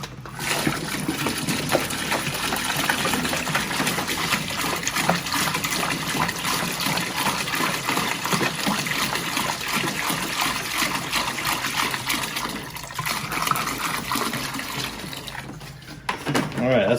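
Water poured from a jug into a parts cleaner tank in a garage, a steady gushing, splashing stream that runs continuously for well over ten seconds, with a brief pause near the end.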